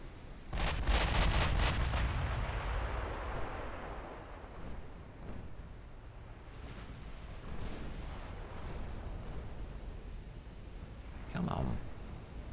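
Deep booming salvos from warship guns in the naval game Ultimate Admiral Dreadnoughts roll out as a heavy, sustained rumble, followed by scattered distant thuds, with someone talking over them.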